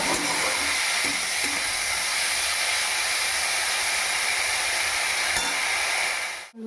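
Drumstick flowers fry in oil, giving a continuous broad close hiss and sizzle at even loudness, with a faint clink or two, cutting off abruptly at the end.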